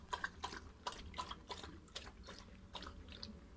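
A hunting dog laps water on a hot day, a rapid series of wet, splashy laps and drips close by, about eight pulses in a steady rhythm with no talk over them.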